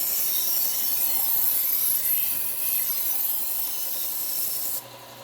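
A Shun knife is ground on a Bucktool slow-speed bench belt sander, giving a steady, close, hissing abrasive rasp that runs without a break and cuts off abruptly near the end.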